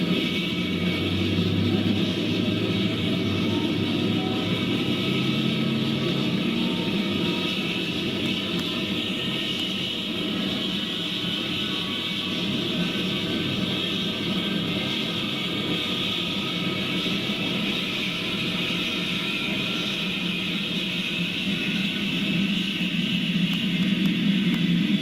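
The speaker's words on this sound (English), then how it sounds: "First ever flight of Concorde." Concorde airliner taking off on its first ever flight, a continuous roaring jet engine rumble, steady and fairly loud throughout with no voices.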